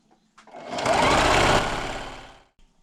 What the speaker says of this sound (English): and then just keep sewing.